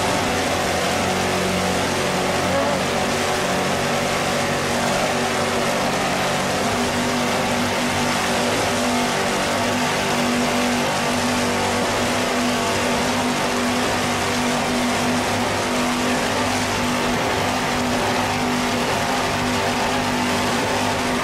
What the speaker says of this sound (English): Let's listen to those Carolina racing engines, too.